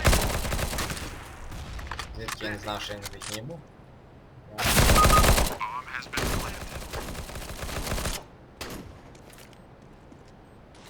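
Bursts of rapid gunfire crackle loudly in CS:GO, broken into several volleys with someone talking over and between them.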